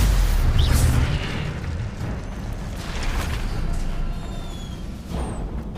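A Stupefy spell cast in the Hogwarts Legacy video game lands as a loud, low booming burst at the start, then fades into a steady rumbling roar of game effects for several seconds.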